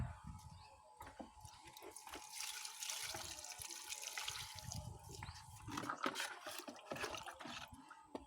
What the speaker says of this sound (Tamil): அந்த தண்ணி எடுத்து ஊற்று.